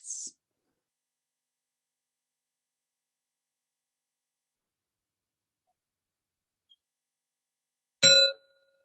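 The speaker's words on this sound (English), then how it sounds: "you're going to hear a little bell that will ring" A small bell rings once near the end, a bright, clear strike during a calm yoga-for-sleep session. Nearly silent before it, with only a faint brief sound at the very start.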